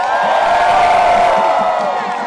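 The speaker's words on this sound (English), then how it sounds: "Give them a round of applause." Crowd cheering and clapping at an outdoor protest rally with a stage, a loud sustained roar of voices and whoops with scattered claps, continuous and close.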